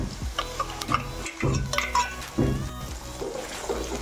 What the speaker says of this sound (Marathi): याच्यामध्ये आपण टोमॅटोची आणि कांद्याची जी पेस्ट बनवून घेतलेली आहे ती टाकून घेणार आहोत